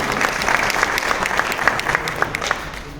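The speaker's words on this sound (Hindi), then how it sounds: "प्लीज जोरदार तालियां" Enthusiastic applause from a crowd at a Hindi political gathering, sustained clapping of many hands with distinct sharp claps scattered throughout, moderately loud and steady.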